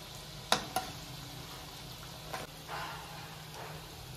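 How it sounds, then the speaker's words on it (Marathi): Koftas frying in oil on low heat give a faint, soft steady sizzle, with a couple of sharp close clinks near the start and light scraping afterwards, quiet and without talking. "कोफ्ते मंद गॅसवरतीच तळायचे, म्हणजे मध्येपर्यंत छान तळतील।"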